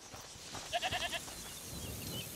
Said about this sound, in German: Ziegen.